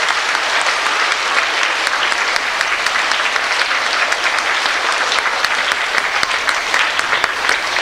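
Loud, dense applause from a school reunion audience honoring scholarship recipients, continuous clapping filling the room without a break.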